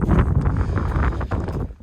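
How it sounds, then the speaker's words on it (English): Loud, steady wind buffeting the microphone on exposed high ground at a dump truck site, a low rumbling roar that fills the whole clip with no voices. "as expected, it's proper windy up here"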